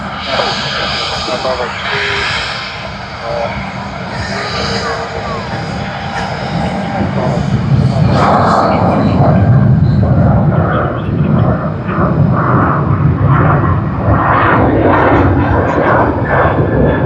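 A Jetstar airliner in new livery roars at Sydney Airport, its steady engine noise swelling louder partway through as it passes close, with a voice talking over it.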